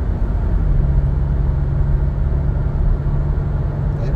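A Toyota Innova fitted with a Blackcore module accelerating toward 100 km/h, heard from inside as a steady, loud engine and road rumble with a low droning tone throughout.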